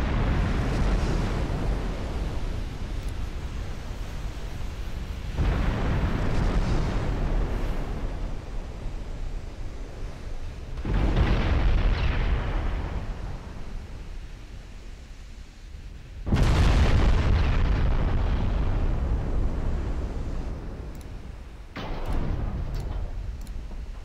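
Flash fire explosions in the Diplomacy is Possible (DIP) strategy game, heard as repeated loud, broad roaring bursts that swell in and fade out in waves, with no talking.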